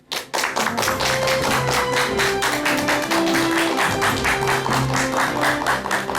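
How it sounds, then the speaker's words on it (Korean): A studio audience at a Korean talk show claps steadily to welcome a guest onto the stage, a dense, even patter of hands over sustained musical tones, with no voices. "큰 박수 부탁드립니다"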